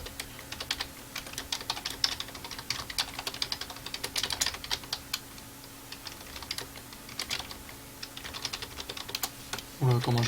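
Fingers type steadily on a computer keyboard, a dense stream of close, crisp key clicks with irregular bursts and brief pauses, ending with a short burst of voice.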